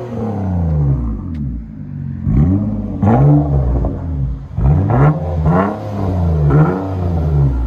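A 2013 Nissan Maxima's 3.5L V6 fitted with Vibrant resonators revs repeatedly, the engine note climbing and falling in several loud, close surges with no talk over it.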